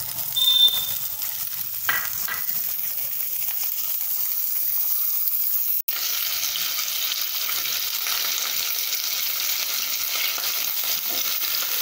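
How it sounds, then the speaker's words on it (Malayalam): Raisins sizzle steadily in hot fat in a pan while sweet semiya kesari is being prepared, a soft continuous frying hiss with one sharp click midway and no voices. "ആദ്യം കിസ്മിസ് വറുക്കാണ്."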